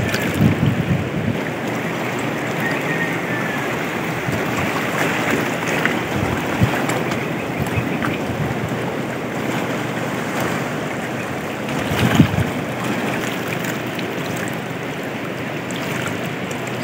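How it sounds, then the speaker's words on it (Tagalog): Choppy sea waves off Calatagan, Batangas slap and wash around a small boat, with steady wind buffeting the microphone throughout and a brief louder splash near the end; no one talks. "kahit ganyan ang alon"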